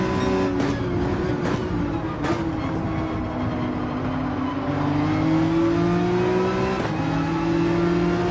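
A racing car's engine in Gran Turismo 7 revs hard and steadily, the pitch climbing through the gears with a few sharp shift breaks, loud and close throughout.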